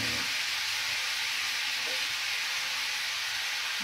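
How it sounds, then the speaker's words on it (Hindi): Cooking oil hisses and sizzles loudly in a hot pan being readied for chicken, a continuous bright frying roar that stays even from start to finish with no voices. "चलिए इसमें बाकी तेल डाल लेते हैं।"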